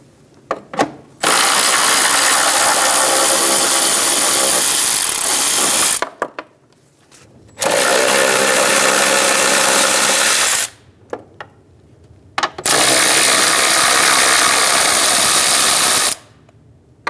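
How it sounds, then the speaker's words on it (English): A 13mm socket ratchet clicks rapidly while loosening battery tray bolts and nuts on a 2000-2007 Ford Focus, three long bursts of close, loud ratcheting separated by short pauses and faint handling noises. "Using a 13mm socket, we're going to remove the 1 bolt and 3 nuts for the battery tray."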